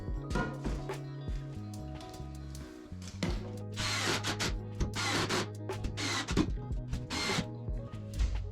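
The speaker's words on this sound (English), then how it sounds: "so I can screw the rest of the sheetrock in place." A power drill drives screws through sheetrock into wall studs during a house wall repair, with repeated whirring bursts and a steady motor hum close by, interspersed with scraping and knocking against the board.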